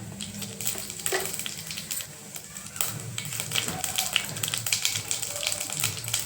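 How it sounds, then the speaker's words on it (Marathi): Cumin seeds pop and crackle in a little hot oil in a pressure cooker while pav bhaji is being made, sharp irregular ticks over a low sizzle, close by and fairly quiet. "जिरा तडतडला"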